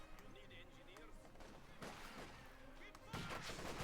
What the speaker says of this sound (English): Machine gun opening up here from across the road